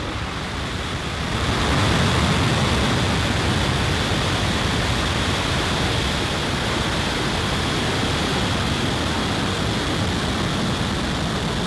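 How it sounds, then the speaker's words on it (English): A Starlink rocket ignites and lifts off with a steady, heavy roar that swells after a second and then holds as a dense, continuous rumble with no break. "Ignition and liftoff."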